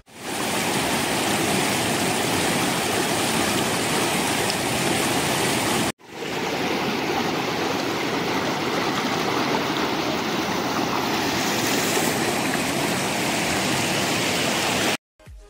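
Geetkhola Three Sister waterfall and its stream roar in a loud, steady broadband rush that runs on without a break, with one brief cut near the middle and another just before the end.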